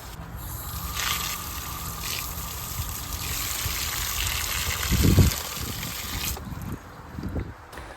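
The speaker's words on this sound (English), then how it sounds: "the next step is we gotta water it and keep it alive" Water pours onto an air-layered fig tree in a steady, soft hiss and trickle, with a few low thumps and splashes near the end.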